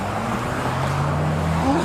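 Car turning on a road close by, its engine hum steady and fairly loud against continuous traffic noise, with a rising whine near the end.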